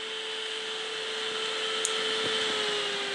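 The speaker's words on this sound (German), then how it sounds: "Also da kann man den Ventilator hier umstellen." A WEMO 106F cooling fan runs at maximum speed, giving a steady, even whoosh of moving air with a faint constant tone and no talk over it.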